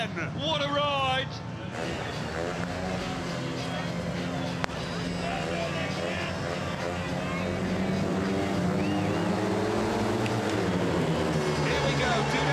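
Speedway motorcycles race around a track, a continuous loud engine roar with rising and falling pitch as the bikes pass, under an excited race commentator.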